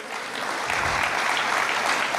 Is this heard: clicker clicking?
no